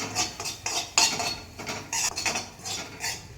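Okra (lady's finger) mixture stirred in a pan over low flame for a Kerala theeyal, with repeated close scrapes and clinks of a spoon against the pan in an irregular rhythm, no talking.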